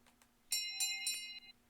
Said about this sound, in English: can we get a bell for social, please?